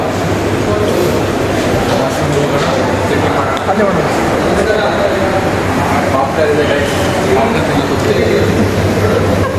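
A metro train's steady rumble and whir fills the space continuously, with people talking faintly underneath.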